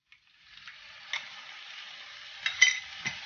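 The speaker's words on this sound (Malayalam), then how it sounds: "ഇനി ഇതിലേക്ക് അരച്ചു വെച്ച് പാലക്ക് ഒഴിച്ചു കൊടുക്കാം" Ground spinach paste poured into a pan of sizzling masala and stirred for palak paneer: a soft, steady frying hiss broken by a few sharp spoon scrapes and knocks against the pan.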